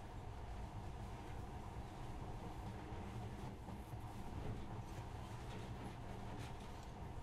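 A monorail train runs in the video game Metro: Last Light, giving a faint, steady rumbling rail drone with a rhythmic clatter that continues throughout without speech.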